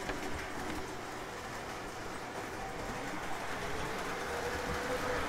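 An O-gauge model train runs around a layout controlled by a block detector and relay, giving a steady, continuous rolling rumble that holds at an even level throughout.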